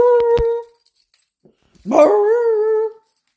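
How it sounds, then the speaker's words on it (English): Two loud dog barks close by, the first a quick pair of sharp yelps, then a longer drawn-out bark after a short silence; a Yorkie is among the dogs in the house. "you should see all the dogs we have here"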